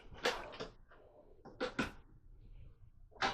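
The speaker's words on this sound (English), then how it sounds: "A bunch of drawers." Kitchen drawers in a 2024 Jayco Jay Feather 22RB travel trailer are pulled open and pushed shut, giving several sharp wooden knocks and slides in quick pairs, close by and fairly quiet, with no talking.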